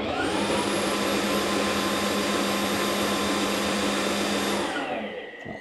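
Mova M50 Ultra robot vacuum dock running its cleaning and drying cycle, a loud continuous whirring roar with steady tonal whine, close by, winding down at the end.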